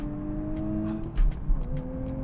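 2023 Nissan Z on a race track: steady engine drone, then two quick throttle blips around a downshift as the revs rise and settle back to a sustained note, no talking.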